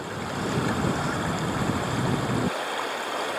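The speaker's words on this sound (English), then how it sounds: "That wind definitely makes it much harder to paddle." Strong wind gusting past while tubing on a river at Harpers Ferry, West Virginia, a steady loud rush with water noise that drops sharply near the end, no talking.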